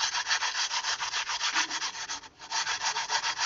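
Sandpaper on a wooden block is rubbed back and forth across a brick, giving a steady, rhythmic scratchy rasp up close with a brief pause near the end.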